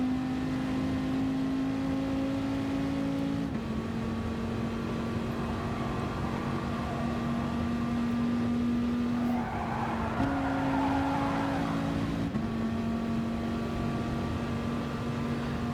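Dodge Viper Gr.3 race cars lapping Spa Francorchamps in Gran Turismo, a steady loud engine drone with clear gear-shift steps in pitch and a brief tire squeal midway, no talking.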